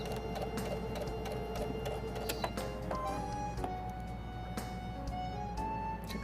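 A home sewing machine stitches fabric for an oven door towel, run by push button instead of a foot pedal, giving a steady close mechanical whir with a faint rhythmic clatter throughout.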